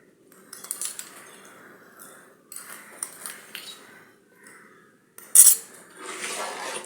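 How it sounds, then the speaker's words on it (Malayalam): Raisins and cashews are added to rava payasam made with jaggery in a pot, giving light clinks and scrapes of metal utensils against the pot. The sounds come in a few separate bursts and are fairly quiet. "ഇനി നമ്മുടെ കിസ്മിസും കാഷ്യൂസും കൂടെ ചേർത്ത് കൊടുക്കാം."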